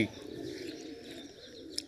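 Pigeons at a village house, fed curry-mixed rice, give soft low cooing. The calls are steady and faint, close by, with a brief chirp near the end.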